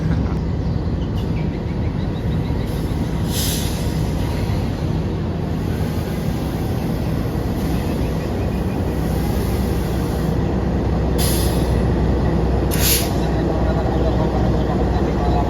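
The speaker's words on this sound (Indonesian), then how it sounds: "itu keretanya udah datang" Low rumbling of the Malabar passenger train rolling into Sidareja station, Indonesia, alongside a steady hum, with brief brighter squeals of brakes or wheels at intervals.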